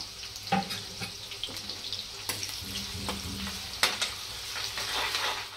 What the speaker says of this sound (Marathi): आता बारीक चिरून ठेवलेला एक कांदा टाकते। चांगला कांदा लाल होऊन द्यायचा।